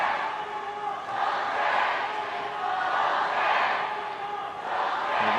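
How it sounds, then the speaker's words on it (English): A home crowd roars encouragement for the Chinese team at an ultimate frisbee World Games match against Japan, loud surging waves of chanting and cheering rising and falling in rhythm. "You might be able to hear them in the background just roaring on the encouragement of their Chinese team."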